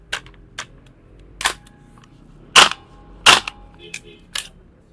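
A WE XM177 gas blowback airsoft rifle cycles its bolt in sharp, close metallic clacks. About seven quick snaps come at irregular intervals over a faint background hum.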